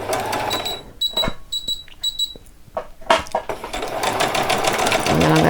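A sewing machine stitches fabric while an old dress is upcycled, with short whirring bursts and pauses early on, then a steady close run of stitching; a voice talks briefly in between.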